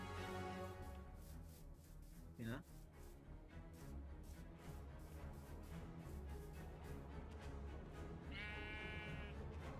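A goat in a video game bleats twice, once early and again near the end, each a short wavering cry rising above steady game music and ambient noise.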